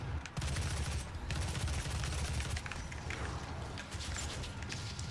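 Rapid gunfire from DOOM combat, a dense, continuous barrage of shots and blasts filling the clip, loud and close with no talk over it.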